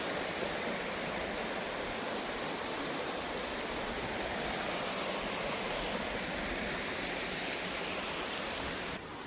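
A Smoky Mountains creek flows steadily by a campground, its broad, even rushing wash close and unbroken throughout with no voices.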